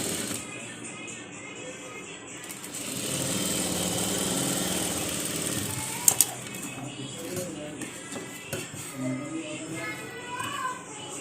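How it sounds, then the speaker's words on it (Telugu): A sewing machine stitches the neck part of a crop top, running as a steady mechanical whir with a busier, louder stretch in the middle and a couple of sharp clicks, quiet background throughout. "నెక్ పార్ట్ స్టిచ్ చేసుకుంటున్నాడు"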